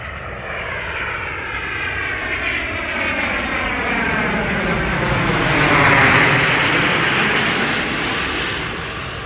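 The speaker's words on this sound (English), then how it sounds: "The airplane coming." An airplane flies over a stretch of the Snake River in Idaho where people are sturgeon fishing. Its loud, steady engine drone builds to a peak midway, then slowly fades, with no talking.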